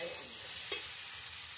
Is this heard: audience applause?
no